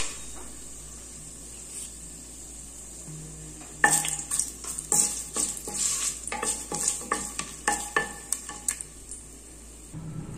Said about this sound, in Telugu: 4 లవంగా, స్టార్ ఫ్లవర్ అండి వేసేసుకొని బాగా ఫ్రై చేసుకుందాము.